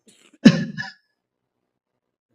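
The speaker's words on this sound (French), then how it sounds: "Je m'excuse car je tousse un peu" One short, sharp cough close by during a sermon, then silence.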